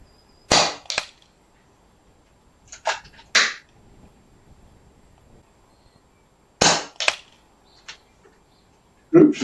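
FX Wildcat Mk.3 air rifle firing at a target, several sharp, close cracks spaced a few seconds apart with quiet between them.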